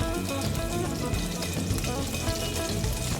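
Ghee heating in a pan for a Mangalorean-style prawns ghee roast, giving a loud, dense, continuous sizzle and bubbling crackle that holds steady throughout, with no talk.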